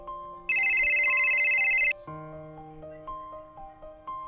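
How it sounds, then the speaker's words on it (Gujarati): A mobile phone ringtone plays a bright, loud electronic burst lasting about a second and a half, then gives way to a softer repeating melodic tone pattern in a quiet room. "તારા ભાભીનો ફોન આવે છે"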